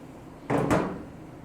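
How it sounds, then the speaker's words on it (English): Instant Pot lid pulled off in one short, close scraping clunk, with a second brief rattle right after, against a quiet room. "Let's open it up and see what we got. Pulling off the lid."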